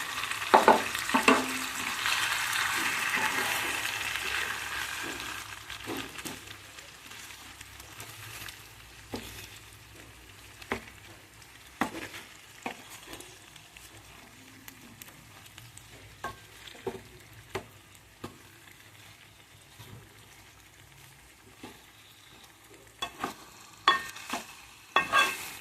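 Leftover masala paste is stirred into a stuffed eggplant curry (gutti vankaya) in a pan: a soft sizzle at first, then scattered scraping and tapping of a spoon against the pan.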